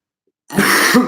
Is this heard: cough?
yes